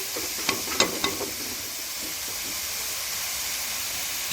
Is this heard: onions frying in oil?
yes